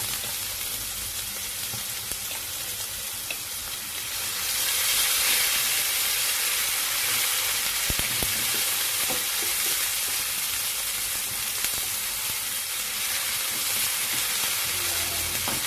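Garlic and tomato sizzle in a hot pan during a beef stir-fry, a steady loud frying hiss that swells after a few seconds and keeps crackling with occasional stirring clicks.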